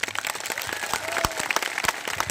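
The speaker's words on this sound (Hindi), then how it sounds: "यदि आपको मेरा प्रस्ताव पास है तो दोनों हाथ खड़ा करके जो है ताली बजा जाए।" A crowd applauding at a public rally and protest gathering, with dense, continuous clapping throughout a short burst and faint crowd murmur mixed in.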